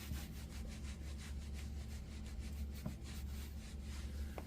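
Wet clay being smoothed along the rim of a primitive handmade no-coil pottery bowl gives a steady, close scraping rub, continuous and fairly quiet, with a couple of brief sharper scuffs.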